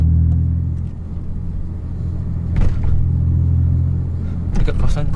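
A Perodua Viva with a manual transmission rumbles steadily from inside the cabin as it downshifts, with brief bursts of engine and road noise over the low drone.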